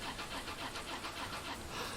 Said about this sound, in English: Car engine trying to start